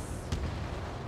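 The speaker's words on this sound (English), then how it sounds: "Watch out for anti-aircraft fire." Anti-aircraft fire in Ace Combat 7 bursts once sharply over a dense, rumbling background of battle noise.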